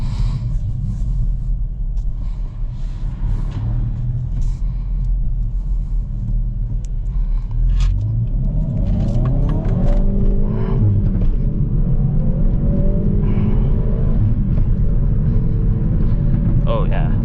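A Hyundai i30N drives with a loud, low engine rumble that climbs into a rising rev as it accelerates, with a person talking over it.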